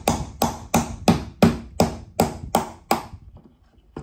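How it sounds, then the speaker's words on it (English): Rail clip being tapped into place on a Milwaukee Packout tool box, nine sharp evenly spaced knocks at a steady rhythm, close and fairly loud, then a quiet pause with one final tap. "Just a little tap"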